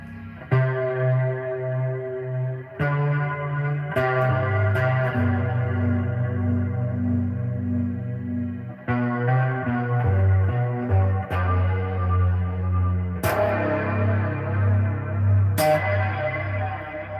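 Low bass guitar notes ring out through a Joyo chorus pedal's shimmering, warbling effect with spacious reverb, sustained tones changing every couple of seconds with occasional string attacks.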